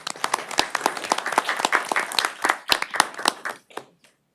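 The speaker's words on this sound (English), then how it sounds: "We can clap, right?" A modest city council meeting audience claps after a proclamation, brisk scattered applause that grows, holds, then thins out and stops near the end.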